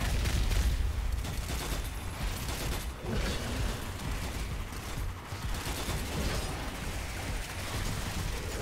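Gunfire in the co-op shooter video game Strange Brigade, a dense continuous clatter of shots and impacts with mechanical rattling, moderately loud and without speech.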